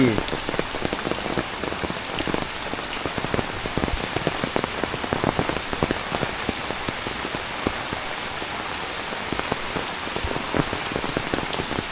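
Heavy rain pours down in a village, a loud continuous patter with sharp individual drops striking nearby surfaces, unbroken and without any talking.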